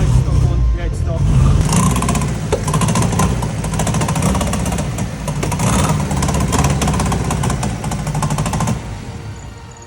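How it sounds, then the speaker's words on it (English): A stock-sensored engine swapped into a Honda Civic runs loud and rough, its idle hunting up and down like a rotary with a steady choppy pulsing throughout, under some background voices. "Although the car was running, it was hunting like a rotary"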